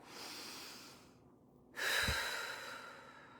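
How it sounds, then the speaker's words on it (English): A slow, deep breath, first a soft drawn-in inhale, then a brief pause and a louder, breathy exhale close to the microphone, with no talking. "everybody take a deep breath with me"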